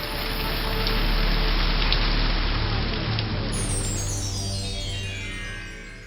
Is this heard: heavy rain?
yes